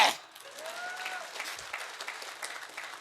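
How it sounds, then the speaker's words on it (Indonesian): Audience applause at a business motivational seminar: a dense, steady patter of many hands clapping from a crowd at moderate distance, fairly soft, lasting a few seconds after a brief opening burst. "Tepuk tangan mana?"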